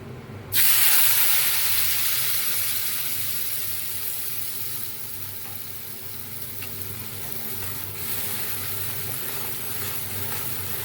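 A paste of mustard, poppy seed, sesame and green chili hits hot tempering oil for a spicy katla fish curry, bursting into a loud, close, hissing sizzle that settles into a steady frying crackle without talk.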